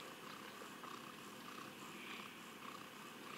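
A mother cat with a fresh litter of kittens purrs softly and continuously, a faint, close, steady rumble with no voices over it.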